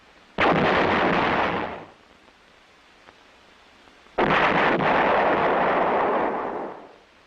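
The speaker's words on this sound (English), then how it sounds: "The towed 105mm howitzer M101A1 is the light artillery weapon of the Infantry Division." A towed 105mm M101A1 howitzer, the light artillery piece of an infantry division, fires twice. Each shot is a heavy booming blast that rolls on for more than a second before fading into quiet.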